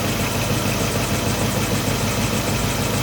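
Car engine idling steadily with a new dual alternator setup and belts, a loud, dense, continuous hum and rumble close by, unbroken for the whole stretch.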